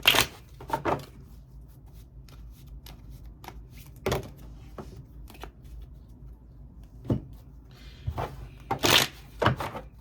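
Tarot cards shuffled to draw a clarifier card, several quick riffling bursts separated by quiet pauses, close and moderately loud, with no talking.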